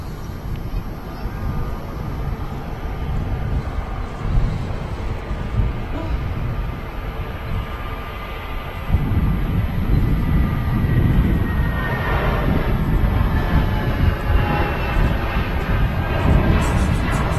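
A Lufthansa airliner in retro livery passes at an airport, a broad steady roar that swells louder partway through and holds, with wind buffeting the microphone and a little speech around it.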